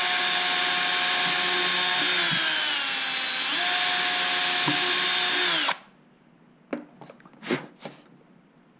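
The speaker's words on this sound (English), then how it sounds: "Now I'm going to just drill a couple of random holes" A power drill whines loudly and steadily for several seconds, its pitch dipping as it bites into foam, then stops, followed by a few faint clicks and rustles.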